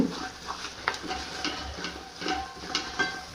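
Adadiya mixture is stirred in a pan, making repeated scraping strokes in a loose rhythm about every half second, close and moderately loud, with no voices.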